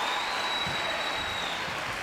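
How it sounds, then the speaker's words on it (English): An audience applauds at a women's World Championship squash semifinal, a steady wash of clapping that fills the arena evenly and fairly distantly throughout. "Crowd really getting excited here."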